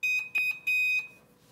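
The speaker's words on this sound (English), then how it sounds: "And when the timer is done, it will alert us." A heat press timer sounds a loud, high-pitched electronic alert in three sharp beeps, the last one held longer before it fades out.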